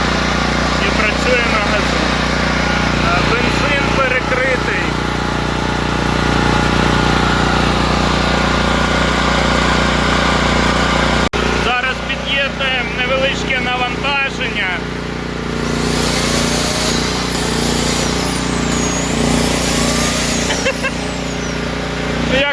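A gasoline generator fitted with an LPG conversion kit drones and hums steadily and loudly throughout at a constant pitch under load, with a person speaking over it partway through.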